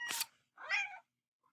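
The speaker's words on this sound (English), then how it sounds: "you can probably hear my kitty cat Moana meowing in the background" A cat meows twice, short and fairly close, with a brief pause between calls and a tiny faint sound at the end.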